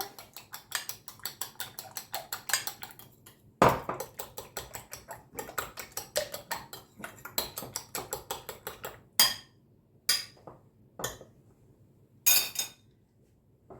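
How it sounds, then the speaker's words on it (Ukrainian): Quick, steady clinking taps of a fork against a bowl while whisking two eggs, repeated rapidly for several seconds, then a few slower, sharper knocks with pauses. "Я їх так виделкою зів'ю."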